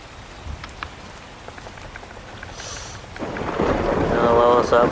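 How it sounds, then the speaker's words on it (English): Rain and thunder in the game Ark Survival Evolved, a low rumble at first, then steady rain that swells louder toward the end, heard alone with no talking. "Of course it started raining."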